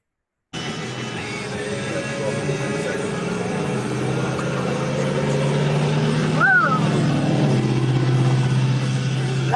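A loud vehicle engine rumbles steadily close by, with people talking over the noise.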